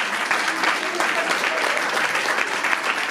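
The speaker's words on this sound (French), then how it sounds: "je pense qu'on peut applaudir aussi ces partenaires." Spectators at a fashion show in Dijon applaud the event's partners with sustained, dense clapping from a sizable crowd, even and continuous, with faint voices mixed in.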